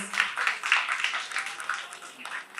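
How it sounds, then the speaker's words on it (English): Audience applause at a book launch event, a soft, fairly distant patter of many hands clapping steadily throughout, with no voices over it. "A round of applause"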